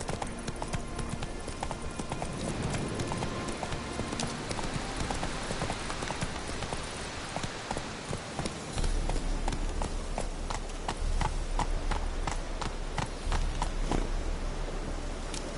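Roach the horse trots in The Witcher 3: Hearts of Stone, with a steady clip-clop of hooves that grows louder and more distinct partway through, running alone without voices.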